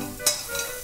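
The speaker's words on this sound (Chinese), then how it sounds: "我们把洋葱炒成焦糖状" Onions stir-fried in a little brown rice oil in a wok until caramelized, a short burst of close sizzling with quick scraping stir strokes, no voices.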